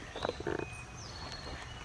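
A small garden frog gives a few quick, faint croaks in a short cluster near the start. Outdoor ambience with light birdsong carries on quietly around it.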